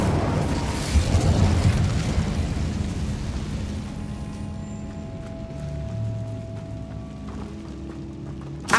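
An Incendio fire spell cast in the Hogwarts Legacy video game, a loud roaring whoosh of flame that slowly dies away into quieter crackles and tones, with a final sharp burst at the end.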